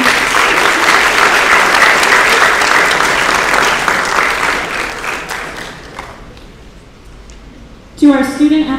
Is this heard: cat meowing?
no